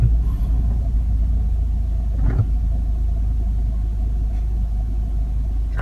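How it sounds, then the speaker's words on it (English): An old Massey Ferguson tractor engine rumbling at a farm, a steady deep low-pitched drone that stays loud and continuous throughout with a brief louder knock partway through. "Tractor show up for the party."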